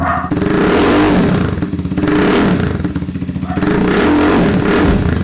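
A Titan 250 FI motorcycle fitted with an SE Project slip-on exhaust revs hard several times up close, its loud, raspy exhaust note rising and falling with clattering mechanical noise between blips.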